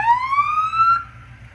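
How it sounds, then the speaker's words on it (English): A police-style siren on a 347-powered 1985 Ford Mustang LX SSP five-speed, loud and close, rising in a smooth upward wail before cutting off, with a low engine idle rumbling underneath. "We got sirens all working as well."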